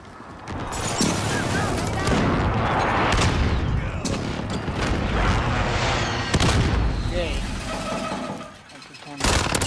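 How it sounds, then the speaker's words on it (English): Precision airstrike explosions in Call of Duty: heavy booming blasts mixed with rattling gunfire, loud and nearly continuous, with voices talking over the barrage. "Enemy precision airstrike inbound."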